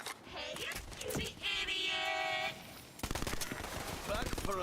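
Tiny Tina's Wonderlands gunfire: a droning tonal weapon sound gives way to a fast, punchy burst of automatic shots near the end, with a voice talking through the action.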